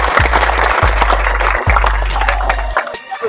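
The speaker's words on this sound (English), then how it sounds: "Clap that up" An audience of schoolkids claps along at a Rams program event in a school gym, dense crowd clapping filling the room with deep rhythmic thumps under it, then tapering off near the end.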